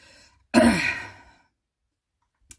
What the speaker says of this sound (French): Ça va m'énerver si je continue de tousser